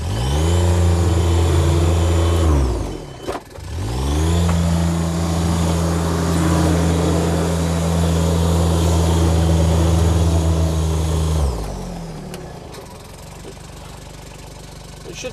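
A four-wheel drive vehicle stuck in mud revs its engine hard and steadily, with a brief drop near the start and the roar cutting off toward the end, loud and close.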